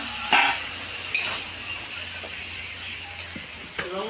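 Soybean chunks fry in a pan with chilli powder, giving a steady sizzle, and a spoon scrapes and clinks against the pan in a few brief strokes.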